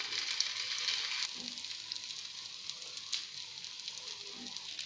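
Aloo cutlets sizzle and fry in shallow oil in a pan, a steady close hiss with soft crackle that stays continuous throughout, no one speaking.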